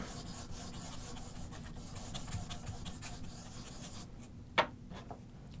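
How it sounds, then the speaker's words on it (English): Honing compound is rubbed onto a leather strop for sharpening carving tools, a soft, faint, continuous scraping stroke repeated back and forth, ending with a brief sharper tap near the end. "Rub that on your leather strop"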